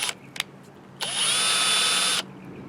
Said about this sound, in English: now we drill the hole